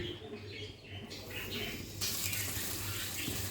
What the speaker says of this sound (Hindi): इसमें हम डालेंगे सबसे पहले अपना क्रश्ड जो है लहसुन हमने लिया है, इसको हम सौते करेंगे।